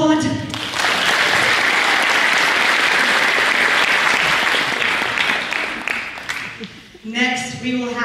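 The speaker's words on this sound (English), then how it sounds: "You may now applaud." Audience applause fills a senior awards ceremony: a loud, sustained burst of clapping that lasts several seconds, then thins out as a voice begins speaking near the end.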